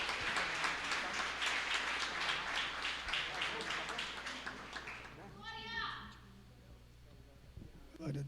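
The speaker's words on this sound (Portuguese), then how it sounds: "Você pode aplaudir mais uma vez?" A church congregation claps for about five seconds, a close, lively burst that fades out, followed by a voice briefly singing or calling out and then quiet room tone.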